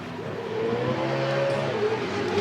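Drift cars, among them a Nissan S14, run at a D1NZ pro drifting event at Manfeild, with a continuous roar of revving engines held at length, loud and fairly near, no voices.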